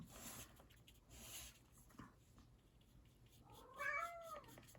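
A pet cat meows indoors, a short rising-and-falling call near the end, fairly close but not loud, over a faint background of rustling and room noise.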